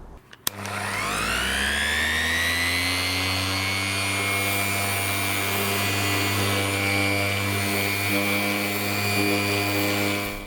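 A power sander whirs up to speed and holds a steady, loud high-pitched drone, with faint grinding friction underneath throughout as it sands a BMW E61 headlight lens.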